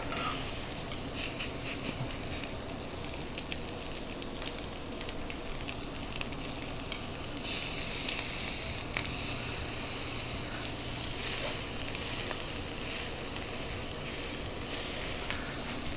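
A flipped tri-tip sizzles on the grates of a Camp Chef Woodwind smoker, making a soft, steady hiss with scattered faint crackles and no voices.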